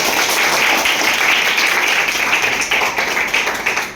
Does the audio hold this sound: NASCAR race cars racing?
no